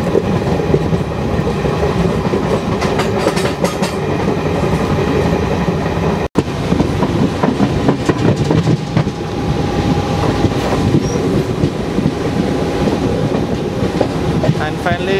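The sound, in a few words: train entering Cuttack railway station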